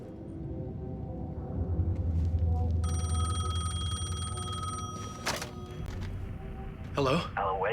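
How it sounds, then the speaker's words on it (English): Payphone bell ringing in the game Alan Wake II, a steady electronic trill sustained over several seconds above a low rumbling ambience, with a brief voice and clatter near the end. "payphone was ringing"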